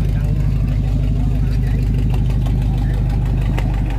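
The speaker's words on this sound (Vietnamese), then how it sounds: "Qua dưới ghe đang chạy nè." A fishing boat's engine runs at the Vàm Láng fishing port in Gò Công, Tiền Giang, a loud, close, steady idle with an even chugging pulse throughout.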